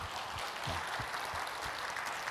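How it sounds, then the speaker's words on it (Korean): Congregation clapping during a Korean church sermon, a steady, dense wash of many hands filling the space, with low thumps underneath and no talk over it. "박수! 박수."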